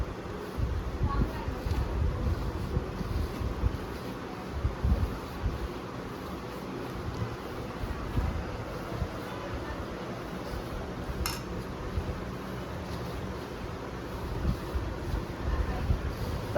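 A spoon scrapes and clinks steadily in a bowl as a roasted gram (daliya) ladoo mixture is stirred, a soft, continuous clatter heard under ongoing talk.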